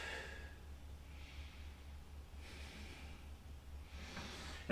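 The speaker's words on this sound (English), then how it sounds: "Nice big breath." A few soft, slow breaths taken while resting in child's pose during a mobility stretch, faint and airy over a low steady hum, with no one speaking.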